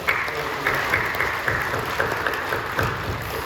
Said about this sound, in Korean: 우리 사랑과 격려하며 박수해 주시죠.